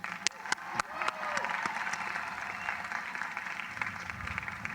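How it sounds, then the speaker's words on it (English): A commencement audience at the University of Delaware applauds a speaker, a dense, steady wash of clapping that swells within the first second and holds evenly, with a few sharper claps standing out near the start and crowd voices mixed in. "Please give Ty Jones another round of applause"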